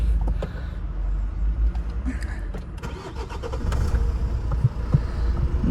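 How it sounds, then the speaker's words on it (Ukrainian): A 2011 Renault Laguna 2.0 dCi diesel engine cranks and starts cold, then settles into a steady low rumble of idling, close by and fairly loud. "Завівся ну, автомобіль м'якенько, гарненько."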